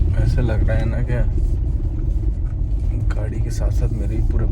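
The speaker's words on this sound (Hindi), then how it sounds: "I think my car is not an off-roading car. Don't like it. So much noise." A car that is not built for off-roading, rumbling and rattling over a rough road with a constant low, heavy drone close by while a person talks over it.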